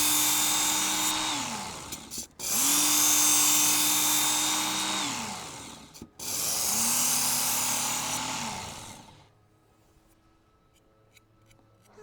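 A kitchen knife drawn along a powered belt sharpener makes three passes of a loud, whining grind, each lasting a few seconds with short breaks between, before the motor noise drops to a faint hum.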